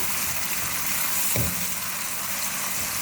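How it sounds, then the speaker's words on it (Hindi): Ginger garlic paste frying on a medium flame for chicken biryani, a steady close sizzle with one brief stir or scrape partway through, no talking. "जिंजर गार्लिक पेस्ट को हम मीडियम फ्लेम पर फ्राई कर रहे हैं।"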